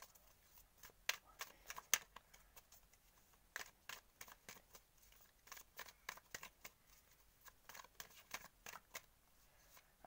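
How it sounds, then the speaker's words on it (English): Tarot cards being shuffled by hand, a run of crisp riffling bursts and soft flicks in irregular clusters, close and fairly quiet with no talking. "I always love to shuffle on camera."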